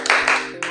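Children clapping for the Tepuk Anak Soleh chant in an Islamic religious classroom: two quick, close claps followed by a third after a short gap, brief and crisp.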